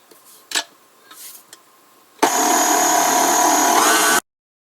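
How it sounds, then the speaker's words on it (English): An electric mixer whips marshmallow creme made with honey and vanilla on high speed, a steady loud whirring drone that cuts in abruptly after a few faint knocks and runs for about two seconds before stopping dead. "we need to mix it again on high for 2 to 3 minutes so it well incorporates and fluffs back up"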